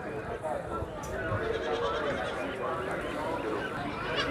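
Goats bleat repeatedly at the Haripur livestock market among milking does with kids, several calls rising over a busy crowd murmur and people talking nearby.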